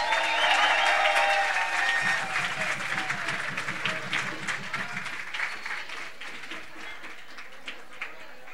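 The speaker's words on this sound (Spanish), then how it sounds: "Un gran aplauso para Tapado." An audience at an orchestral teaching workshop breaks into big applause for the presenter, a dense burst of clapping with a few voices that gradually fades to scattered claps and soft chatter.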